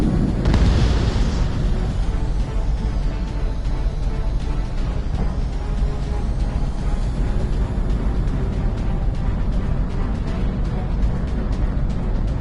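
Rumbling, booming blast of a missile hit in an aerial combat video game, loud and continuous, with a sustained low roar and crackle filling the mix.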